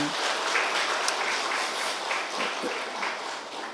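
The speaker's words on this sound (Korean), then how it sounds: "우리 서로에게 한번 박수하실까요?" A church congregation at a Korean Sunday family worship service claps steadily throughout, a dense wash of applause at moderate volume with no pauses.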